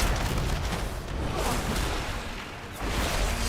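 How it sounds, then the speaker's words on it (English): Cannon fire in World of Warcraft: The War Within, a dense barrage of booming blasts and whooshes rolling continuously, loud and close, briefly easing before resuming. "what? Cannons?"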